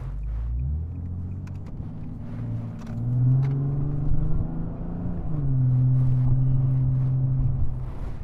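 A 2009 Nissan 370Z pulling away, a deep engine rumble rising as it accelerates, easing briefly, then climbing again into a steady drone heard from inside the car.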